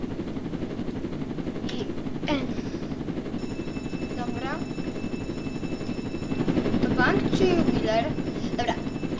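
Helicopter in a video game, a continuous thrumming rotor drone that swells louder toward the end, with a few brief chirpy electronic sounds on top.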